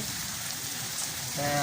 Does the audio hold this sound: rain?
yes